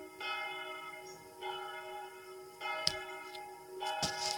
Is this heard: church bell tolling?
yes